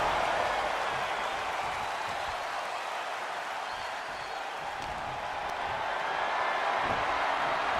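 Broad, steady crowd roar from a wrestling arena audience in WWE 2K25, a continuous wash of cheering and applause with no clear breaks.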